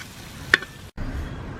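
Garlic frying in oil, a close sizzle with a metallic clink of a stirring utensil, a brief cut to silence, then a steady louder hiss of frying.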